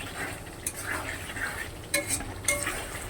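Katla fish curry with chunks of potato being stirred and sautéed in a pan: a continuous soft sizzle with close scraping and a few sharp metallic clinks of a spoon against the pan, and no talking.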